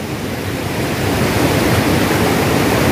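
Machadinho waterfall roars up close in a steady, dense wash of falling water that fills the whole scene and swells slightly louder toward the end.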